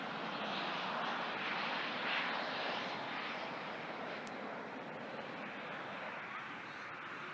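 Turbine-powered jet aircraft fly over a night airshow with a broad, continuous roar like rushing wind, loud and steady throughout with only slight swells.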